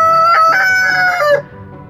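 A rooster crows loudly and close by, one long strained cock-a-doodle-doo with a few bursts before it breaks off into quiet.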